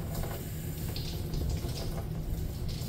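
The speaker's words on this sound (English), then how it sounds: "we want to do a good job of flushing the tools you use, the water" Running water flushing tools clean after acid adjustment on industrial batteries, a steady close splashing flow with no talk.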